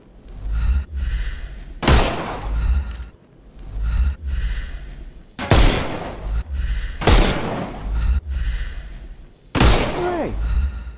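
Gunfire from the video game Sherlock Holmes Chapter One rings out in loud bursts, several sharp broadband shots spaced a second or two apart, some in quick clusters, over a low rumbling game ambience.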